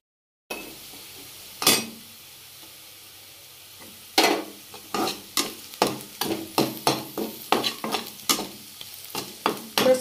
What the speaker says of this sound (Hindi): बस आप इसको 2 मिनट के लिए ऐसे ही पकने दें।